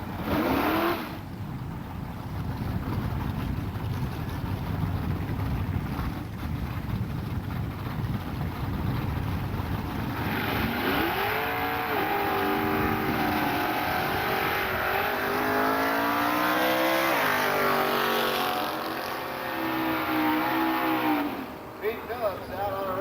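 A Ford Tempo and a Chevrolet Vega at a quarter-mile drag strip, engines droning loudly then rising in revving sweeps as they launch, with an announcer talking over the roar.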